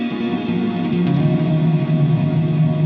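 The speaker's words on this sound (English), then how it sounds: "it can be a little bit difficult to make out all the notes behind all that reverb" A busy electric guitar line played through a Fender Hammertone Reverb pedal set to low damping, high level and long decay, the notes smearing together into a dense, sustained wash with no gaps.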